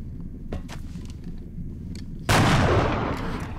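A single loud gunshot from the XCOM: Enemy Within strategy game rings out after a quieter stretch of game ambience and soft clicks, its burst sustaining and fading slowly.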